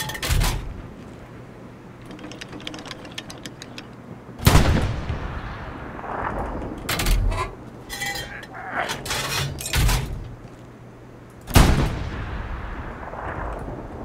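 Several heavy artillery blasts from high-explosive shells in a video game boom at irregular intervals, each with a sharp crack and rolling decay, amid quieter clatter and distant shots in between.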